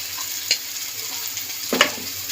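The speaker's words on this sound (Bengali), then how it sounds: "মশলা কষানো হয়েই এসছে প্রায় তেল ছাড়তে শুরু করেছে" Spice paste cooking down in oil gives a soft, steady sizzle, with two sharper scraping strokes from a spoon stirring the pan, one near the start and one toward the end.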